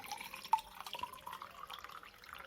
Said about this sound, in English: Let me put some water in this glass.